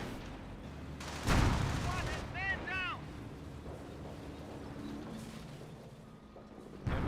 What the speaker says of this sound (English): Enemy rocket barrage, and the US player's not really responding to it